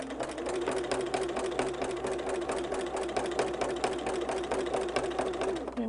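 A sewing machine stitches a holiday quilt across a seam, a close, steady rapid mechanical whir and needle chatter running evenly throughout, with no talking.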